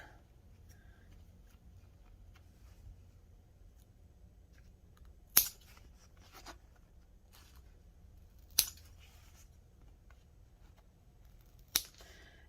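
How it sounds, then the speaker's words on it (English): Three sharp, crisp snips spaced a few seconds apart over a quiet, low background hum, as scissors trim threads and corners from a sewn zipper piece. "cut off all these extra threads, and let's go ahead and trim the corners"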